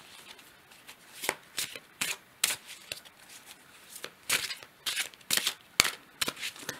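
Tarot cards being shuffled in a run of crisp riffling bursts, some short and some longer, close and fairly loud, with a brief spoken word near the start.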